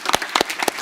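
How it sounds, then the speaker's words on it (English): An audience at a Riga conference panel claps for the panelists, dense close applause in quick bursts. "let's give a round of applause to the panelists"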